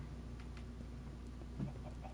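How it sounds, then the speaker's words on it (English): Faint clucking of chickens in a video game against a steady low hum, with soft scattered ticks and no voices. "The chickens."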